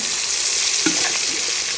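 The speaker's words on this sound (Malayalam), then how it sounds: "ബീഫ് ഫ്രൈ ചെയ്തെടുക്കാനും വേണ്ടിയിട്ട് ചട്ടി അടുപ്പത്ത് വെച്ചിക്കണേ" Steady, loud sizzling of spiced beef frying in hot coconut oil in a pan, with a brief stir or scrape partway through; no voices.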